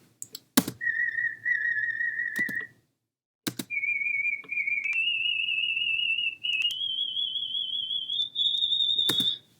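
Pure, whistle-like sine tones isolated from the harmonics of a singing voice, held one at a time and stepping upward in pitch across several sustained notes, with a sharp click at the start and end of each group.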